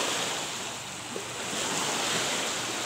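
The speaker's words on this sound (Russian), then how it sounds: "Ну и опять пошли такие волны" Waves wash steadily against the shore of the Pirogovskoye Reservoir, a continuous rushing surf with some wind noise, moderately loud and unbroken.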